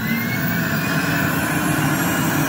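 A Rainbow SRX vacuum air cleaner runs at full speed, its motor giving a steady, close whooshing roar with a high whine on top that stays even from start to end.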